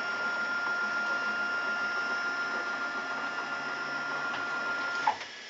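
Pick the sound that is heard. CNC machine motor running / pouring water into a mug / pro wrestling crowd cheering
CNC machine motor running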